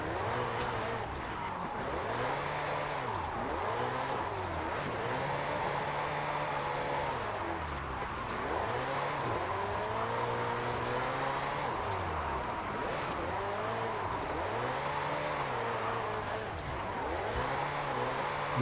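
A Ferrari all-wheel-drive car drifting in Forza Horizon 5, its engine revving up and down in repeated sweeping surges that hold steady and loud throughout, with someone talking over it.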